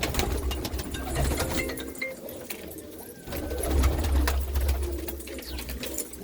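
Golden red-eyed pigeons being let loose, soft cooing and fluttering over a low rumbling background, moderately faint, with no one speaking.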